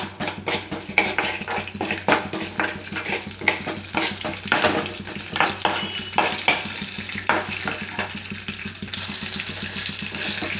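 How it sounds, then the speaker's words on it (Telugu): Cumin, mustard seeds, urad dal and chana dal fry in hot oil for a tempering, giving a dense, continuous crackle and sharp sputtering pops close by, with no talking. "జీలకర్ర, ఆవాలు, మినపప్పు, శనగపప్పు ఇవి కొద్దిగా వేగాలి."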